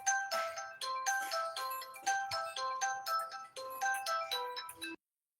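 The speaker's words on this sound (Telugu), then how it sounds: "టూ మినిట్స్ అండి, కాల్ వస్తుంది" An incoming-call ringtone on a phone plays a bright, repeating melodic pattern close and clear with no talk over it, then stops abruptly after about five seconds.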